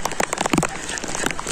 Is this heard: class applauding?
no